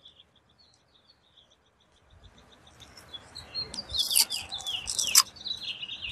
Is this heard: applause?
no